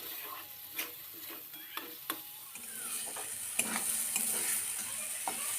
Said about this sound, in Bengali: এখন সমস্ত মশলাগুলোকে একসাথে ভালো করে কষিয়ে নেব।